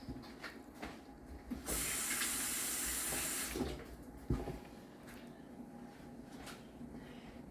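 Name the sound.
rinsing hands under a running tap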